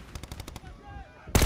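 Rapid Call of Duty Black Ops 6 gunfire rattles out in a quick burst of evenly spaced shots, then a brief lull with faint background sound before another loud, close blast hits at the very end.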